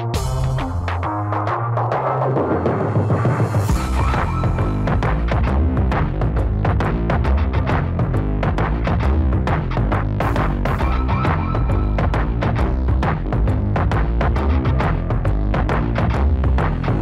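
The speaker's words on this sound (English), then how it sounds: "As I pull the feed truck into the pen," A farm feed truck's engine runs as it is driven into a cattle pen, giving a loud, steady throbbing rumble with rhythmic pulsing throughout and a brief rise in pitch early on.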